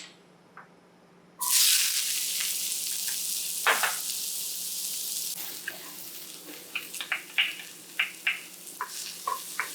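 Garlic, onion and red pepper flakes drop into hot grapeseed oil, setting off a loud sudden sizzle that settles into a steady hiss, then a run of clicks and scrapes as the pan is stirred.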